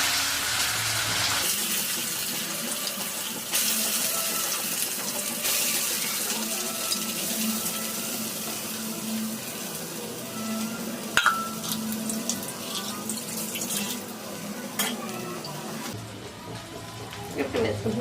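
Chopped ivy gourd (tindora) frying in hot oil in a kitchen pan, a continuous soft crackling sizzle with a few sharp clinks and taps from utensils partway through, under occasional quiet speech.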